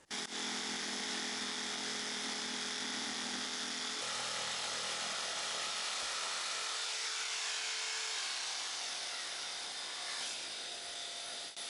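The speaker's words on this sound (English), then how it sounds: "I drilled a hole and then used a jigsaw to make the opening." An electric jigsaw cuts an opening in a chipboard subfloor sheet, its motor running loud and continuous throughout, with the pitch and load shifting as the blade works through the board.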